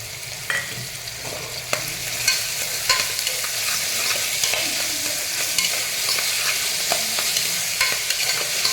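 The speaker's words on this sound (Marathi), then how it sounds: "तेल चांगलं गरम झालं की ह्यामध्ये आपण कांदा पोळून घेऊया।" Finely chopped onions fry in hot oil for a mutton curry, a steady broadband sizzle with scattered crackles and occasional stirring scrapes continuing throughout.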